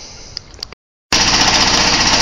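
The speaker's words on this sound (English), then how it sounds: "Got the engine running with the smart drive." A small engine driving a Fisher and Paykel Smart Drive washing machine motor by pulley runs with a steady, loud mechanical whir and hum after a brief silence, preceded by faint clicks and handling noises.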